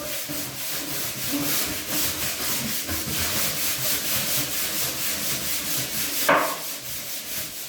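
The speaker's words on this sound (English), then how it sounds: "So I have to scrub vertically." Vertical scrubbing strokes on a bathroom surface make a steady, close rubbing and brushing texture that runs the whole time, ending in one brief louder swipe, with no talking.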